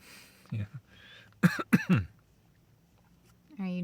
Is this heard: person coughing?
yes